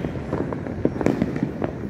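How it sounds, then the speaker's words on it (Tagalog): Aerial firecrackers exploding over Manila at New Year, with dense overlapping pops and bangs in a continuous barrage, some bursts standing out louder and nearer than the rest. "hindi ko po masyadong alam kung ganito kadami yung paputok ng aerial firecrackers"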